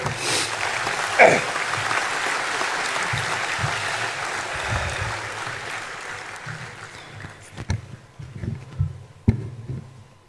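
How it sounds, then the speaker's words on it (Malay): Applause from an audience in a large hall at an UMNO party gathering, a broad, sustained clapping that fades out over several seconds, leaving scattered handclaps and faint noises near the end. "Tepukan untuk mereka."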